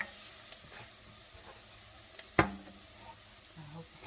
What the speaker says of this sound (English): I'm adding my vegetables in, and I'm going to stir them around so that they can become translucent and cook